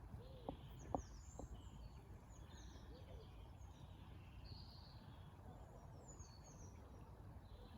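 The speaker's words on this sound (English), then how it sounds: "Birds are twittering." Small birds twitter and chirp faintly across a quiet riverside path near a gently trickling stream, light scattered calls over steady low outdoor background, with a couple of brief knocks or steps near the start.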